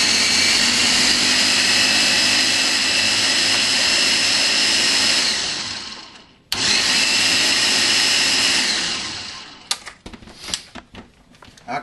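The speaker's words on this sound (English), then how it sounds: "Got my ninja blender. Gonna blend it all up." A Ninja blender whirs loudly and steadily as it blends milk into a malt shake, cutting out briefly around the middle, then restarting before winding down into rattling and clinking.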